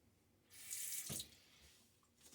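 Tap water runs briefly into a bathroom sink during a shave, a soft hiss that rises, holds for about half a second and fades, faint and close with no voices.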